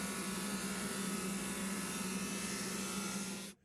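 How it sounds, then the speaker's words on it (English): A woodworking drum sander runs with a loud, steady whine and broadband roar at close range, holding an even tone until it cuts off abruptly at the end. "And again through the drum sander"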